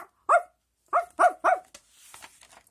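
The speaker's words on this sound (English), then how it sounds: "He barked and barked and barked until Henry's mother opened the door." A dog barks four times in short, sharp bursts, fairly close, followed by faint rustling and a few small yips or whimpers.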